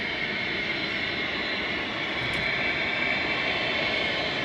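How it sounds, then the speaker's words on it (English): A Ryanair jet airliner taxis at Manchester Airport, its engines giving a steady, loud broadband roar with a whining tone that holds evenly throughout, no voices present. "the Ryanair just taxiing towards us, just behind it"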